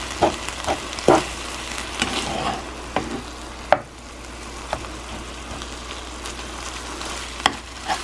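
Seasoned filling with salt, pepper, garlic powder and oregano browns in a pan, giving a steady close sizzle with occasional louder stirring scrapes and pops.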